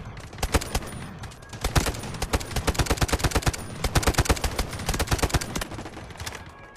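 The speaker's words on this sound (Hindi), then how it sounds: "ये मेरे साथ खड़े होकर गोलियां चला रहे हो" Rapid automatic gunfire in the shooter game Delta Force, dense bursts of sharp shots in quick succession, some overlapping, sustained for several seconds with no talk.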